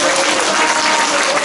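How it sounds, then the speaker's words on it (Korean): A gathering at a Catholic parish Legio Mariae annual fellowship meeting in Seongsu-dong applauds its volunteers, a brief burst of loud, dense clapping from many hands. "봉사자분들을 위해서 한번 박수 좀 부탁드립니다."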